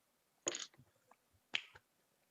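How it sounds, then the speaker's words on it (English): Two slow, deliberate hand claps, spaced about a second apart, sound close and crisp against near silence at the end of an online presentation. "Slow clap."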